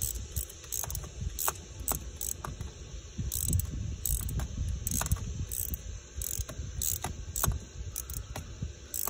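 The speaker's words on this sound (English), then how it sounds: "So we're gonna take the regular ratchet and just snug these," Hand ratchet snugging bolts during a PCV valve replacement on an engine, quick bursts of sharp clicking pawl ticks repeated in short runs, close and fairly quiet.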